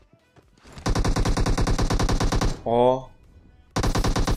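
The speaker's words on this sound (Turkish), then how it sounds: "Adam birini vurdu oradan." Automatic gunfire in the mobile game PUBG Mobile, long loud rapid bursts with a short tonal game sound between them, close and dominating, with a brief voice murmur.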